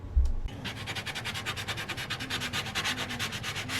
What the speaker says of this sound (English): I used a sanding block to remove any of the paint that had come over from my lid